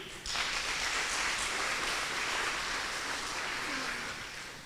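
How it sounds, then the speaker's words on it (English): A crowd claps steadily and fairly loudly for several seconds at a kindergarten graduation ceremony, the applause tapering slightly toward the end with no speech over it. "A round of applause once again to the team."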